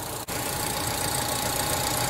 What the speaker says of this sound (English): Okay, the engine started. Let's let it idle for a couple of minutes and check for leaks.